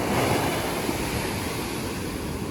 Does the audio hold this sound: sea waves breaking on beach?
yes